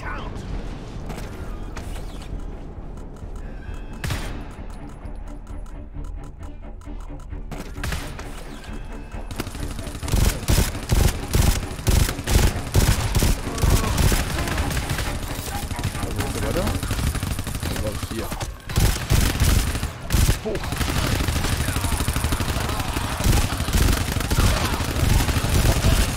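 Rapid gunfire in the co-op shooter GTFO, with bursts of automatic fire and mechanical clatter starting partway in, loud and repeated under a muffled game soundscape, with a player talking at times.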